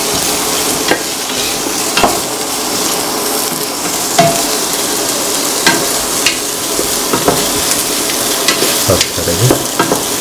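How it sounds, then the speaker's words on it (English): Ash gourd pieces with green chili and salt sizzle steadily in a hot pan, with a spoon stirring and occasionally scraping against the metal in irregular strokes, close and continuous, with no voices. "saute करेंगे।"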